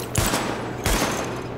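Weapon fire at practice targets in The Division, two loud, close bursts of rapid gunshots with a short pause between them.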